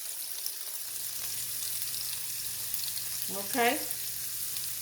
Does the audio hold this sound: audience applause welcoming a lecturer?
no